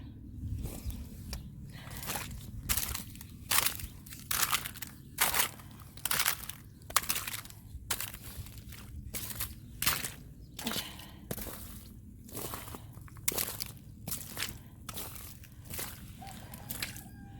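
Boots crunch through frozen chunks of ice and mud on a homestead in about 20-degree weather, a steady walking rhythm of close, gritty crunching steps roughly two per second with no talk.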